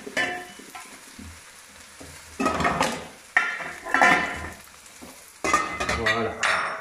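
Aubergine and courgette pieces frying in a pan for ratatouille: loud bursts of sizzling surge and fade as the vegetables are stirred, with clattering utensil knocks on the pan in between.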